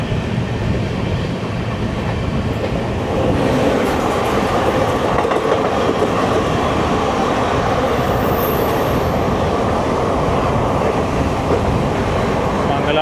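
The Parasuram Express, a daytime express train, rushes past from the opposite direction, heard from inside a moving train in Kerala. A loud, dense, continuous roar of rattling wheels and wind builds and holds for the whole span, with no talk.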